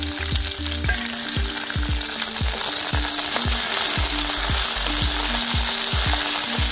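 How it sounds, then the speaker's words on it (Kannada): Raw tomatoes and curry leaves frying in a pan give a loud, continuous sizzle, broken by a regular rhythm of scraping stirs against the pan, roughly two per second, close and clear. "ಕರಿಬೇವು ಸೊಪ್ಪು ಸ್ವಲ್ಪ, ಇಟ್ಕೊಂಡಿರೋ ಟೊಮೊಟೊ ಹಾಕೋತಾ ಇದ್ದೀನಿ."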